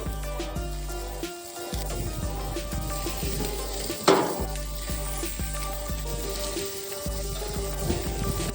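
Thin kebab meat sizzles on hot grill plates for an Azerbaijani kebab, a steady fine crackle with occasional clinks of metal and brief pauses, close and fairly loud.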